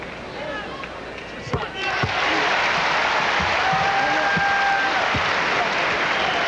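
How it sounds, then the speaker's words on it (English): Basketball crowd at a 1995 Wisconsin at Iowa game booing a player as he re-enters, a loud sustained roar of voices swelling after about two seconds and holding steady, with a commentator talking over it. "you hear the chorus of boos as he re-enters"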